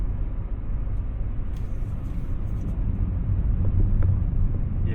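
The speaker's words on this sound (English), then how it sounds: "that just spun the wheels" A 2024 Nissan Z fitted with a throttle controller accelerating with its wheels spinning, heard as a steady low engine rumble that swells slightly toward the end, with no voices.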